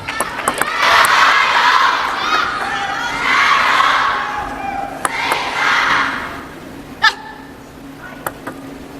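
A table tennis player screams in celebration in a crowded arena at a China Smash match, a series of loud shrill shouts with crowd noise and scattered sharp hits and claps around them.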